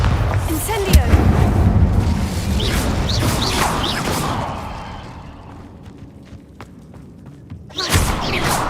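Bombarda and Incendio spell blasts in Hogwarts Legacy land as heavy booming thumps and crackling bursts, loud at first and fading into a quieter rumble before another burst at the end, with a voice over it.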